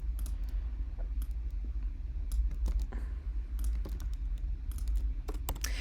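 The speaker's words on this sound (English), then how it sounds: "as I'm typing this out" Rapid, uneven keystrokes clatter on a computer keyboard as someone types code, close and fairly loud over a low background hum.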